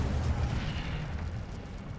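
Incendio fire spell cast in the Hogwarts Legacy video game, a deep rumbling boom that swells and rolls on steadily for about two seconds with a hissing, roaring edge.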